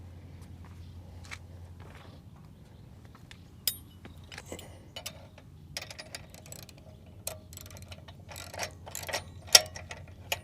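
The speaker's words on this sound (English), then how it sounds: "So let's get our wrenches and tighten it down." Wrenches tighten a nylon nut on a boat launch bracket, giving faint intermittent metallic clicks and ratcheting taps over a quiet low hum, growing busier toward the end.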